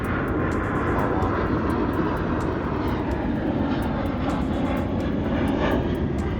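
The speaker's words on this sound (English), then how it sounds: "Cause where that plane's coming from is Arlington." An airplane flies overhead near Georgetown in Washington, DC, its engine a loud, steady roar that swells and fills the scene throughout, with no speech over it.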